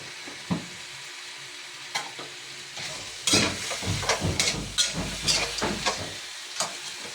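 Meat fries in a pan with a steady sizzle, broken by close scraping and clattering strokes of stirring that grow busier in the second half, with no talking.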